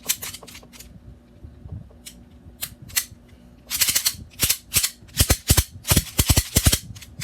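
Disassembled airsoft gas blowback pistol being reassembled, its slide fitted back onto the frame with a run of sharp metallic clicks and clacks, sparse at first, then denser and louder, heard alone and close.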